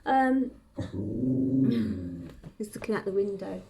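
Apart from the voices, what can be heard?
dog growling and barking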